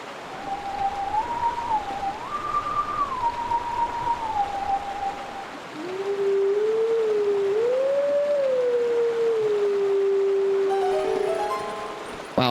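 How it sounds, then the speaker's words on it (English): Wolf howling in Zelda: Twilight Princess HD: long sustained howled notes glide up and down in a slow melody, first a higher phrase then a lower one over a steady wind-like background, loud and clear with no speech. "It's time for wolf howling."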